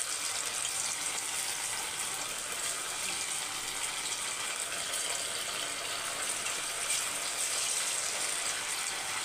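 Chicken 65 pieces frying in hot oil for chicken Manchurian, giving a steady, dense sizzling hiss that holds evenly throughout with no talk over it.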